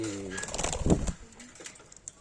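A pigeon, apparently a female bird, coos close by in a brief, low, throaty burst with faint flutter-like rustles afterward, with no talking.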